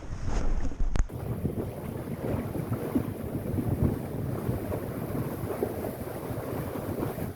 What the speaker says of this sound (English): Surfing along nicely here down the waves.